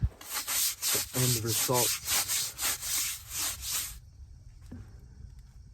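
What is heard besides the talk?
scrubbing brake dust off a car wheel rim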